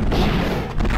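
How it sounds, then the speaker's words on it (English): A big explosion in the Payback 2 video game: a loud, dense boom that fills the whole second with heavy low rumble, with no voices over it. "Oh god, that's a big explosion."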